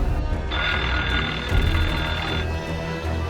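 A telephone rings in a quiet, isolated house in the opening scene of the film Scream, one electronic ring burst heard alone at moderate loudness.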